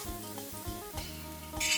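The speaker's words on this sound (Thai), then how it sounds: "หลัง จากนั้นเราก็ผัดรอให้ทุกอย่างเริ่มสุกก่อนครับ" Chicken, bell peppers and pineapple stir-fried in a pan for a Thai sweet and sour dish, with repeated spatula scrapes and clinks over a steady sizzle, ending in a louder burst of frying.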